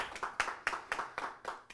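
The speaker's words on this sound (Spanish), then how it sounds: "Den un aplauso en la tarde." A quick run of about seven rhythmic claps from a church congregation at a steady beat, fairly faint, with no voices.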